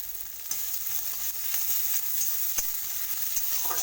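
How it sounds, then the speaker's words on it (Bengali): Crushed garlic cloves frying in oil in a pan hiss in a steady, close sizzle, with occasional stirring clicks and no talking. "এগুলোকে লাল করে ভাজা করতে হবে"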